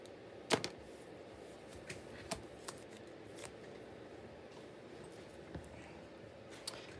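Small scissors fussy cut a paper flower for a mini scrap journal in a quiet room, a series of sharp, close snips at irregular intervals over faint background hiss.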